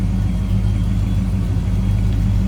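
A 1967 Buick GS 400's big 455 V8 idles with a deep, loud, steady rumble close up, its low throb continuous throughout.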